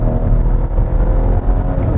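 Volvo S90 2022 mild-hybrid sedan with roughly 300 horsepower, its engine pulling hard with the accelerator pressed deep, a loud, steady low-pitched drone that holds without a break throughout.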